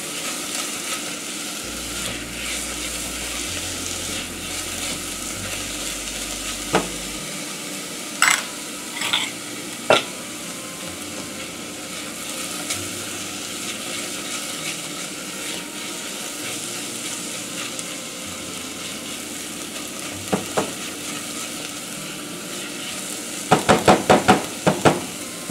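Onion and garlic sweating gently in a pan for a tomato sauce, a soft steady sizzle throughout with occasional sharp clinks and scrapes of a utensil against the pan.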